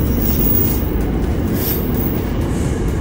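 A double-decker train rumbles steadily at a station, with a low mechanical drone and faint high-pitched squeals over the top.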